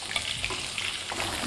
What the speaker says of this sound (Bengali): একদম ক্রিস্পি করে ফ্রাই করে নিতে হবে।